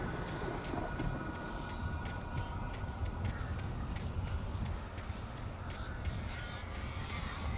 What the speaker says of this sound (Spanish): Esos cuervos infernales tienen un sonido muy raro.